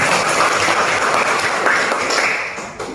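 A group claps together in dense, steady applause close by, holding level before fading slightly toward the end, with no voices over it.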